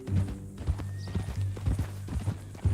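Horse hooves clip-clop at a steady walking rhythm in the Red Dead Redemption 2 video game, close and fairly loud, with a low rumbling background and a brief snort-like sound near the end.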